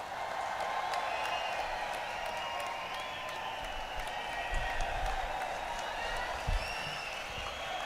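A large crowd at a political rally applauds faintly and from a distance, a steady wash of clapping with a few low thumps partway through.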